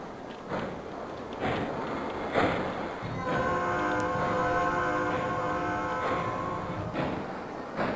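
A train crossing a player-built bridge in the game Bridge Construction Set: rumbling rail noise with rhythmic clacks, then a sustained multi-tone train horn blowing for several seconds over the rolling wheels.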